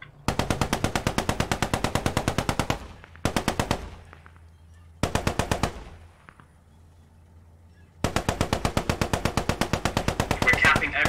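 Automatic gunfire in a first-person shooter video game, rapid rhythmic bursts of shots in several long volleys separated by short pauses, loud and close.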